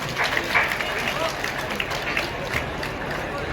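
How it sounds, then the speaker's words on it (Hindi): An audience claps for a group of children who performed qawwali: a continuous, even wash of applause and crowd murmur at moderate volume, with voices mixed in throughout. "इन बच्चों के लिए जोरदार तालियां"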